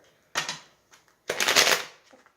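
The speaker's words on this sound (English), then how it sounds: "And that was a shuffle misfire." Two bursts of riffling tarot card shuffling, a short one then a longer louder one, close up with a small click between.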